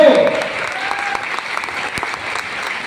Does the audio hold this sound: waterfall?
no